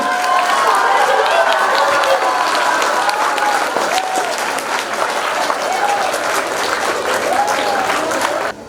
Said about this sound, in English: Give a big huge round of applause for both of them.